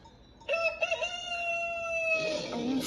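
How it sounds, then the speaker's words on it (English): A rooster crows once, close and loud: a few choppy opening notes, then a long sustained cock-a-doodle-doo call that breaks off at the end. "A rooster."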